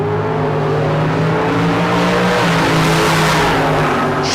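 Drag race cars, a 2014 Copo Camaro and a Beretta, roaring loud and steady at full throttle with heavy layered engine drone and a tire-squeal edge, no voices.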